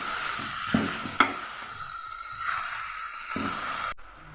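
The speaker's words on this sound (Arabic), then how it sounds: "هحط مكعبات الفراخ واديها تشويحه كده" Chicken cubes sautéing with softened, golden onions in a pot, giving a steady close sizzle with a few sharper stirring knocks and scrapes; no voices.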